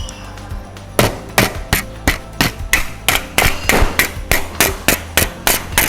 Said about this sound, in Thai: พลาสติกกรอบเนี่ยเสียงมันจะโปร่งๆ กว่า